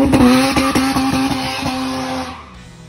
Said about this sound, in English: the beautiful sound produced by this engine made the RX become a jewel loved by speeders